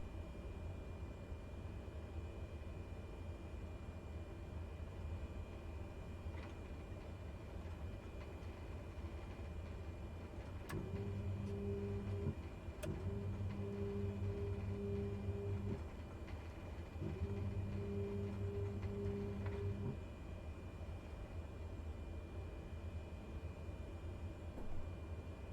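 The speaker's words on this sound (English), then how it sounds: "And then we just taxi to the runway" An aircraft taxiing to the runway in Microsoft Flight Simulator, a steady low engine hum with two spells of a louder droning tone, quiet and unbroken, with no talking.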